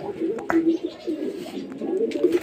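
Several pigeons coo in low, rolling murmurs close by in their loft, overlapping softly with a few faint rustles and flaps.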